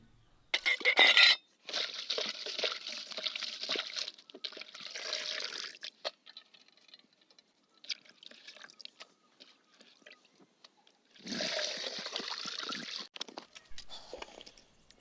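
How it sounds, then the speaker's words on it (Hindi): Saag greens being washed by hand in water, with splashing, dripping and light clinks in sharp loud bursts at the start and again near the end, and quieter rustling in between. "साग को हम अच्छी तरह से साफ कर देंगे।"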